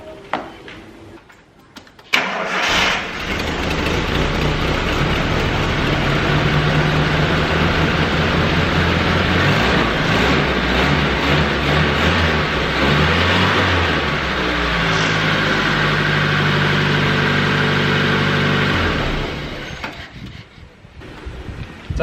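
Engine fires up after a short pause, then runs steadily at a loud idle for about sixteen seconds before cutting off; a high-mileage engine, around 450,000 km, just reassembled after a compression test.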